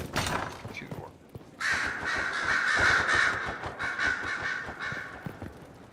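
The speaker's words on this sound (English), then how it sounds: "Do you want to get those birds out of here?" Crows caw in the video game Dragon Age Inquisition, a dense, steady run of harsh calls that fills most of the clip after a brief quieter opening with faint voices underneath.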